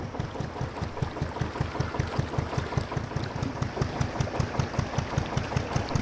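A narrowboat's diesel engine runs at a steady idle, its rhythmic thudding pulses loud and close, repeating evenly throughout without speech.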